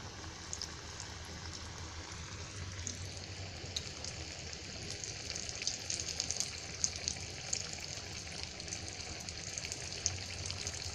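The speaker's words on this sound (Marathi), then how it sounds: "तेल चांगलं तापायला द्यायचं आणि त्याच्यामध्ये अशी सोडायची एक एक." Salmon (rawas) fish pieces deep fry in hot oil, giving a steady, dense crackling sizzle with a faint bubbling undertone that carries on without a break.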